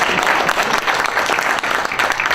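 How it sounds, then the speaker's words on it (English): Sustained applause from an audience at a county committee breakfast in a stadium, steady dense clapping filling the room without pause. "Let's give him a round of applause."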